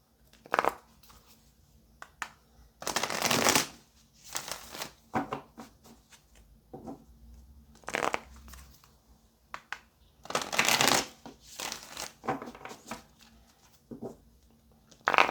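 Tarot cards being shuffled in several quick, papery bursts with short pauses between, close by and fairly quiet, with no talking.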